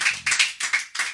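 A church congregation applauding, with a short burst of several quick, sharp hand claps close by, no voices.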